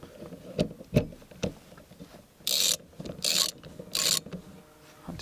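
A wrench works a 13 mm nut loose on a Freelander tailgate during a strut and release repair, with scattered metallic clicks and knocks followed by three bursts of quick ratcheting, close by.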